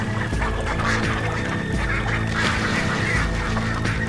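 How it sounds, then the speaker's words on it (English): Ducks gather on a patio in South Florida, quacking and honking continuously in a close, busy flock with overlapping calls. "There are a lot of ducks in South Florida, and apparently they all like to hang out on my patio."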